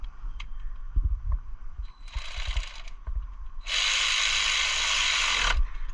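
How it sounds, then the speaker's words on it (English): A ratchet tightens thermostat housing bolts on a 2000-2006 Nissan Sentra. Close clicking ratchet strokes come first, then short whirring bursts of a power ratchet, ending in a longer loud buzz. "if you have an electric ratchet or if you have just a regular ratchet, you can go ahead and put them in"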